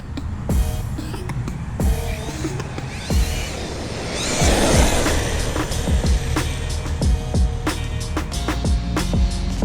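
An Arrma Kraton EXB RC truck with a 2200KV motor on a 3S battery and racing slicks whines and roars as it runs, with a continuous buzzing drone punctuated by sharp thumps and bangs from bumps and landings.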